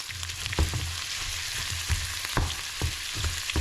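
Corned beef sizzling and frying in a pan, a constant crackling hiss broken by a series of soft clanks from stirring or a utensil against the pan.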